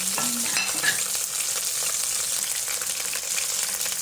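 Mudfish (dalag) fries in a pan with sautéed garlic and onion, a loud, steady sizzle with occasional stirring scrapes near the start, and no voices.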